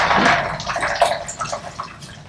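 Water splashes and trickles as skin is rinsed during a facial treatment after microdermabrasion and a chemical peel, a close, steady wet rinsing with small splashy bursts, heard alone.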